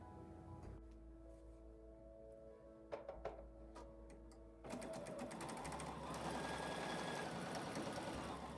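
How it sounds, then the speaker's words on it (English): Domestic sewing machine stitching side pieces of fabric onto a quilt block, starting after a pause with a few clicks, then running steadily in a continuous close, even whir. "Now I'm going to sew these on and then press them."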